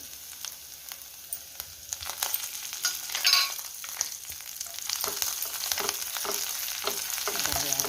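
Curry leaves frying in a pan for ajwain leaf rasam crackle and sizzle steadily, with bursts of spattering and scraping stirs over a continuous hiss, close and fairly loud, no speech.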